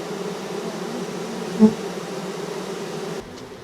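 A honeybee swarm clustered on a lemon tree, bees fanning, gives a steady, close, dense buzzing hum that continues evenly and drops off slightly near the end.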